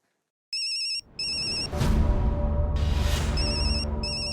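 A phone at home rings with an incoming call from papa, giving repeated electronic ringtone bursts with short gaps. A louder, fuller sound then joins and plays under the continuing rings.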